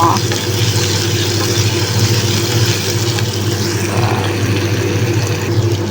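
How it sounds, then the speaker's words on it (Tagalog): Onion and garlic sautéing in a pan with a steady, loud sizzle and a low hum underneath, continuing without pause. "isagisahin lang natin ang ating sibuyas at bawang"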